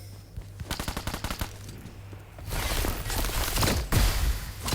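Rapid bursts of PUBG Mobile gunfire from a new weapon crackle in quick succession, first as a rhythmic stutter, then as a denser continuous barrage.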